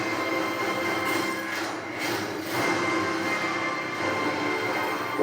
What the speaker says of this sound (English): This is what the TV speaker sounds like.